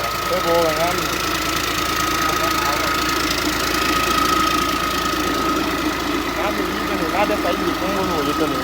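A 260 hp common-rail diesel engine runs loud and close with a rough, knocking drone and a few revs, while people talk over it.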